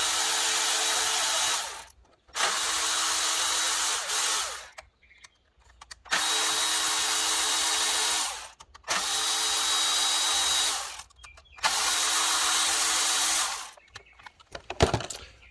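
Power tool loosening the oil filter housing bolts on a 2014 Jeep Grand Cherokee 3.6L V6, running in five loud sustained bursts of about two seconds each, separated by short pauses, close up.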